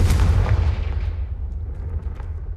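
A Confringo fire blast spell explodes in the game Hogwarts Legacy: a deep booming burst that is loudest at the start, then a rumbling roar that slowly fades with a few faint crackles.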